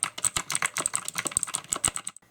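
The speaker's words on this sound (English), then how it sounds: "Here's a quick typing test and sound test." Rapid clacky keystrokes on an E-Yooso K700 single-hand mechanical gaming keyboard, close and crisp, in a quick irregular burst of about two dozen presses with no talking.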